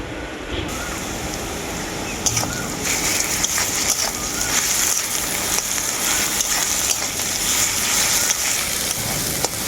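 Garlic paste hits onion frying in oil, a loud dense crackling sizzle that steps up sharply after a moment and holds steady.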